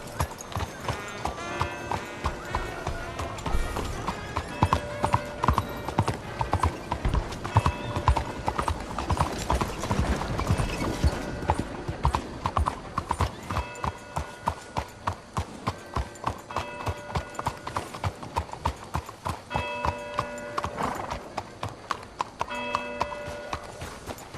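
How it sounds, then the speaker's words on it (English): Horse hooves clip-clop steadily while riding in Red Dead Redemption 2, a continuous rhythmic trot under game music with brief speech. "Let's get back on my horse here. It's just a little bit quicker in getting around."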